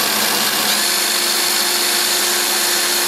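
A 19.2 volt Craftsman cordless drill spins at full throttle while grinding valves on a 1988 Jeep XJ, a loud, steady high-pitched whine with a constant tone and no pauses.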